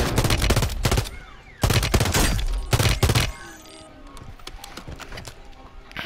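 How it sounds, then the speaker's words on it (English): Gunfire crackles in Call of Duty Warzone while sniping comes from below. Three loud, rapid bursts are followed by softer, scattered shots further off. "We're getting sniped from below."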